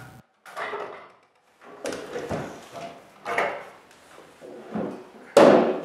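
Parts are taken off a band saw in a woodworking shop: a series of separate knocks, scrapes and clunks of metal and wood pieces, close and moderately loud, with short pauses between them.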